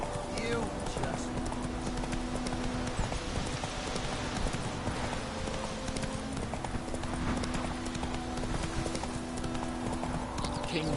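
Roach the horse gallops in The Witcher 3, with steady rhythmic hoofbeats at moderate loudness under game music and ambience while someone talks over it.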